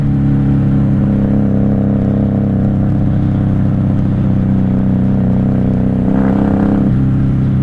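Loud, steady engine of a 1994 Honda Magna VF750C 750 V-four cruiser motorcycle running close by, with a brief rise in revs near the end as it is blipped.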